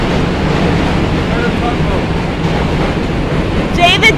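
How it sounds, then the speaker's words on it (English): Subway trains crossing the Manhattan Bridge over the East River in New York City, heard as a steady, loud, broadband roar with wind noise and no pauses throughout. "the reason it's so loud is the Manhattan Bridge has subway trains going over it"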